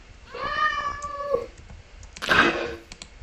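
A cat meows twice in the Minecraft world Calfis World, first a drawn-out tonal meow and then a shorter, harsher one after a pause, both close and clear with no talking.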